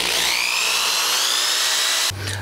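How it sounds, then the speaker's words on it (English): A power drill drilling a hole in wood whines at high speed for about two seconds, its pitch climbing slightly, then cuts off abruptly. "So just go ahead and drill your hole."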